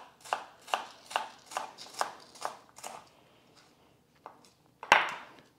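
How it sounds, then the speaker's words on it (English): A knife chops an onion on a cutting board in a steady run of about seven crisp, close taps, then pauses before two more cuts, the last one louder. "I am currently chopping up this onion."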